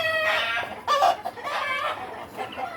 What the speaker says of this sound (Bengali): এগুলো প্রথম ব্যাচের ইনকিউবেটর মুরগি